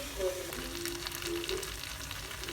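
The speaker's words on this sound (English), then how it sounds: "now I have already fried this noodle with all the vegetables for like about 10 minutes" Noodles and vegetables fry quietly in a pan with a soft, even sizzle and faint crackle, plus a few brief high tones over a low background hum.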